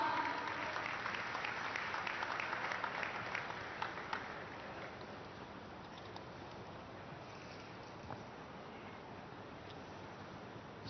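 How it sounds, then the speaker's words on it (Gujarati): An audience applauds to welcome Gujarat's Chief Minister Bhupendrabhai Patel at the Sardardham hostel inauguration in Vadodara. The clapping is dense for about four seconds, then fades to a softer, thinner spatter. "આવો તાળીઓ સાથે તેઓને આવકારીએ."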